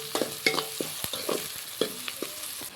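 A spoon stirs spiced food frying in oil in a pan, with a series of sharp scraping and clinking strokes over a soft sizzle, close up and without speech.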